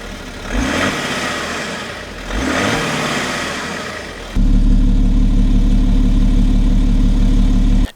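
A tuned M57 3-liter diesel in a BMW E70 X5 revs twice in rising-and-falling bursts, then settles into a louder, steady low drone up close.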